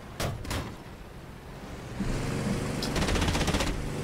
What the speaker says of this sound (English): Getting shot up by that spit.